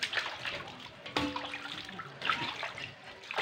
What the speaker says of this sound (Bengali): এখন এই মেয়েকে এনেছি বাইরে স্নান করানোর জন্য